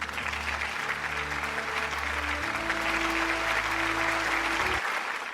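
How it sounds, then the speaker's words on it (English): Applause from a webinar audience fills the moment, a steady wash of clapping sustained for several seconds over a faint background tone. "Let's give a round of applause."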